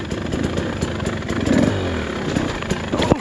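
A 2024 Husqvarna TE300 dirt bike engine braking downhill in first gear on a mountain trail, its engine droning and burbling close by with clattering over rough ground.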